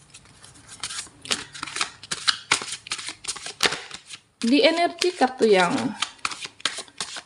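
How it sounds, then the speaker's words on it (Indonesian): Tarot cards being shuffled, a run of quick papery riffles and flicks under a voice speaking Indonesian, followed by louder handling near the end. "Baiklah, kita shuffle kartunya ya."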